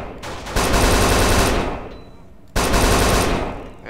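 Loud, sustained automatic gunfire in Kane and Lynch 2, with two long bursts of rapid shots separated by a brief lull, close and dense.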